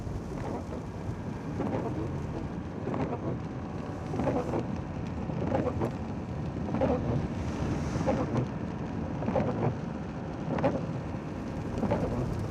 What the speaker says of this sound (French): La pluie s'est mise à tomber.